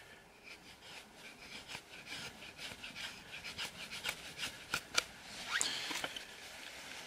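A Yakut knife carves thin shavings from wood at close range, with a rapid series of dry scraping and rasping strokes that grow louder toward the end.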